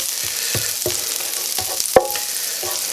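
Two tablespoons of butter melt in a skillet over medium heat, giving a steady close hiss with a few scraping stirs and one sharp metallic clink near the end.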